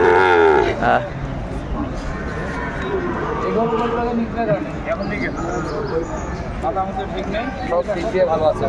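Cattle low and moo at a busy Bangladeshi cattle market where a Sahiwal bull calf is on sale, with a loud call at the start and steady crowd noise and people talking throughout.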